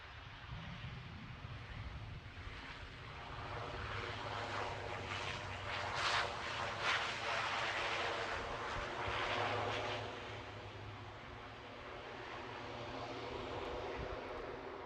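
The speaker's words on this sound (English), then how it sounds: "So we're going to finish with the departure of the Lufthansa A320." A Lufthansa Airbus A320 departs Edinburgh Airport, its engine roar rising to a peak midway and then easing off, heard from a distance.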